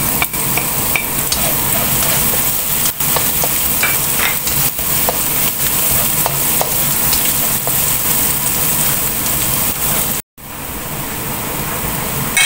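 Garlic and onion fry for flat noodles with beef and bell peppers, a loud continuous close sizzle with scattered stirring clicks, briefly cut off near the end before resuming.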